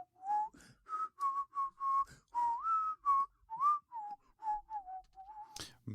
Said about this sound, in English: his newly mastered technique of inward whistling